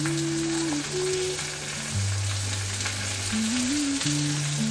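Potatoes sizzle gently in oil over low heat for a Konkani potato fry, a steady crackling hiss close by, with a soft melodic tune running underneath.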